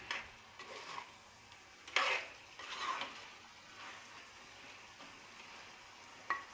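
Chicken curry with ginger-garlic paste simmering in a pot, a steady low bubbling and sizzling hiss with a few faint scrapes and clicks, quiet and continuous, no voices.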